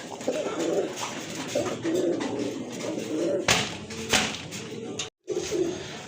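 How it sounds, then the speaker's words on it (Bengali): A pair of racing pigeons for sale coo repeatedly in low, throaty murmurs, close by and steady, with shuffling and rustling around them and a brief hush near the end. "এখানে কিন্তু আরেক জোড়া কবুতর রেসার কবুতর খুবই সুন্দর কোয়ালিটি ফুল"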